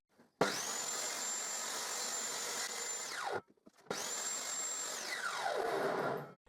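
A power saw cuts a thin wooden strip for a shed window frame in two separate passes, each a loud, steady whine that winds down after the cut, with a short pause between them.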